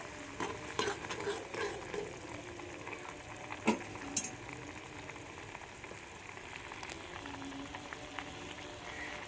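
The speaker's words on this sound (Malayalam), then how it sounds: "നമ്മുടെ മസാലയൊക്കെ നന്നായി തിളച്ച് വന്നിട്ടുണ്ട്." Fish curry masala with kudampuli bubbling in a pot while being stirred, a steady low simmer broken by scraping spoon strokes and a few metallic clinks against the pan.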